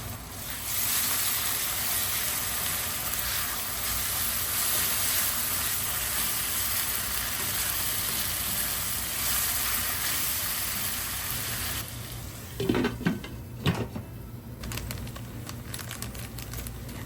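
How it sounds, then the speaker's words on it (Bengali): A spice paste of chili, ginger and garlic paste sizzles in a pan with reddish fried onions, a steady close hiss running throughout, with a few clinks and stirring scrapes near the end. "পেঁয়াজটা ভাজা হয়ে গেছে একদম লাল লাল করে, আর এখন যে মশলাটা বানিয়ে রেখেছিল ওইটা দিয়ে দিচ্ছি"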